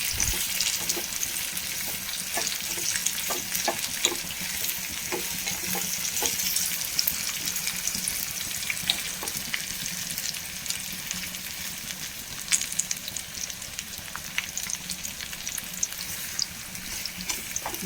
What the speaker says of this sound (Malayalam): ഒരു 2-3 മിനിറ്റ് ഒന്ന് വഴറ്റി കൊടുക്കാം.